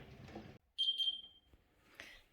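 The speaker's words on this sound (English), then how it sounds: "So I'm going to actually set my timer again." A kitchen timer going off during home apricot jam canning, a pair of short high electronic beeps close by, with quiet muffled room noise around them.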